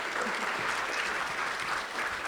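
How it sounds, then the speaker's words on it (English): An audience at the 2023 Defence Media Awards ceremony in Washington applauds a presenter as she takes the stage, with dense, steady clapping filling the room throughout. "please give her a round of applause to Miss Mimi Gurgis"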